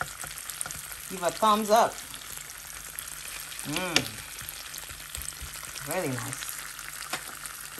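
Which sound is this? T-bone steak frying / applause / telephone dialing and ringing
T-bone steak frying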